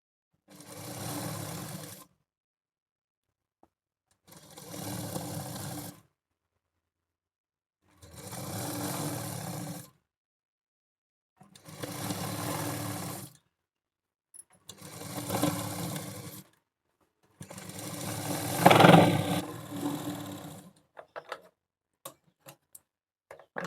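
A sewing machine runs six separate bursts of double stitching along a blouse sleeve, each about two seconds of steady close whirring with short pauses between, the last run louder and followed by faint clicks.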